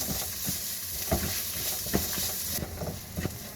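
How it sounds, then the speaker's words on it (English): Onions and spices stirred in a pan over low heat for a lamb meatball masala curry, a steady soft sizzle with a few scraping strokes of the spoon, close and moderately loud, no voices. "give it a stir for about a minute"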